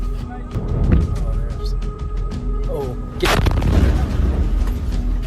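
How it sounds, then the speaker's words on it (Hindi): Missile explosions from an Iranian attack on a US base, recorded by a US soldier: a steady low rumble with scattered distant booms, then a heavy blast near the three-second mark followed by louder roaring and crackling. "यहां अमेरिकी सैनिक ईरान के मिसाइल अटैक को रिकॉर्ड कर रहा था"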